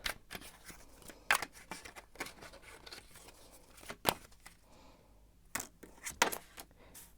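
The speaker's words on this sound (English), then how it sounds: "gonna shuffle some cards about the gossip on you." Quiet, crisp riffling and snapping of tarot cards being shuffled, in short bursts with brief pauses between them, close up.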